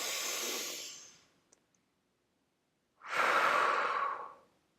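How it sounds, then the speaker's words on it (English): Two long, deep breaths, each a loud airy rush lasting over a second, separated by about a second and a half of near silence, close and alone with no talk. "relax and take some deep breaths"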